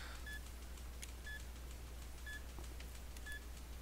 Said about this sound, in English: And I hit A as soon as the last beep and flash.